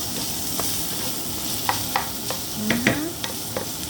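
Fried eggplant is stirred in a sizzling pan, a steady fry hiss with intermittent utensil scrapes and clicks against the pan, close up and without speech.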